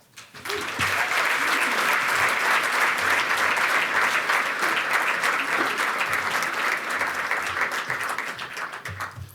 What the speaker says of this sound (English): It's probably a round of applause.